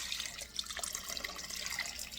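Water pours steadily into a cooking pot of chicken tinola, a close, continuous splashing trickle with no voices.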